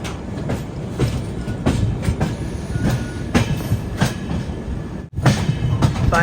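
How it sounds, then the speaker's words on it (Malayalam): AC Express passenger train approaching Panvel station, heard from inside a 3AC coach: rhythmic clickety-clack of wheels over rail joints with steady rumble, the beats gradually spacing out as the train slows. "ട്രെയിൻ സ്ലോ ആയല്ലോ."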